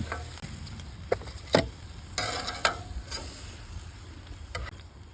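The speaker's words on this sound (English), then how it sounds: "We just want to sear it." Smoked tenderloin pieces searing on a pan at a campsite, with a soft low sizzle broken by a few sharp utensil clicks and scrapes, fairly quiet and close, with no talk.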